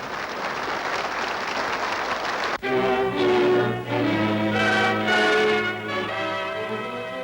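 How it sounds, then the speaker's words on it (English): A big crowd applauding golfers at a 1950s Australian tournament, a loud, sustained wall of clapping and cheering that continues steadily throughout. "The big crowd gives him and Oliver a tremendous reception."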